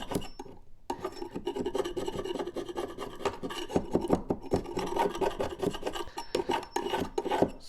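Scraper rasping glue residue off wooden piano bench joints in repeated short, close scraping strokes with an uneven, gritty rhythm and brief pauses between passes.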